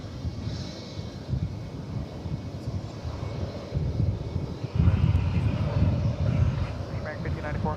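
American Airlines Airbus A321 bound for Oklahoma City at DFW Airport, a low, rumbling jet engine drone that grows louder toward the end, with some wind-like hiss.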